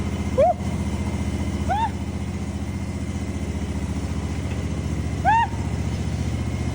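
A Gravely zero-turn mower engine runs steadily at idle, a close, even mechanical drone throughout, with brief exclamations from a person breaking in over it a few times.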